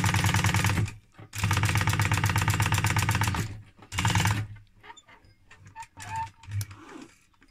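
A sewing machine runs edge stitching along leather with a narrow foot, its needle chattering in rapid bursts separated by short pauses, close and clear with no talk.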